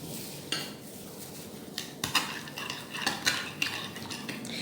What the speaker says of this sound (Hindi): अब इसको अच्छी तरह से मिक्स कर लेना है मसाले को